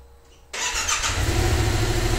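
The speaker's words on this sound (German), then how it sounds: "und jetzt starte ich das Motorrad neu" Motorcycle engine on a driving-school bike starting up after a brief crank, catching abruptly and settling into a steady, loud, close idle with a low throbbing rumble, no speech.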